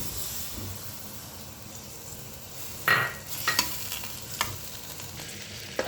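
Ghee going into a hot kadai for a water-based sooji halwa gives a steady soft sizzle, with a brighter hissing burst near the middle and a few sharp clinks of a spoon against the pan.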